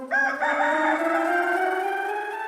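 A voice imitates a rooster crowing, one long drawn-out cock-a-doodle-doo call, loud and close, with no other sounds.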